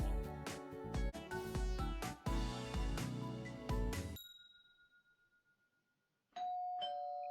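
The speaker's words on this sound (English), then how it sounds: "It's still early when you hear your doorbell." A loud musical jingle plays and fades out, followed after a short silence by a chiming ding-dong doorbell in the Hush Hush video game, clear and close with no speech.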